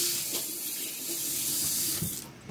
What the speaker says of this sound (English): So I'm going to wash this sink out right quick.